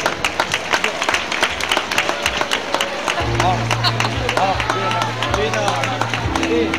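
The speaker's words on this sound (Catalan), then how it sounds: "Un aplaudiment pel Pol." Audience applause for a named person at the Fira del Tió fair in Solsona, scattered claps mixed with crowd hubbub and a low steady hum, with voices talking over it throughout.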